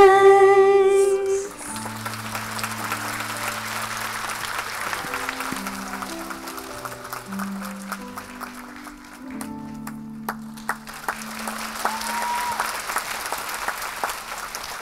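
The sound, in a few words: audience applause after a performance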